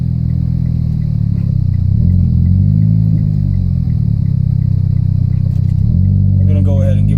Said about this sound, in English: In these downshifts, I mean, the crackles and pops that this exhaust has is just very nice.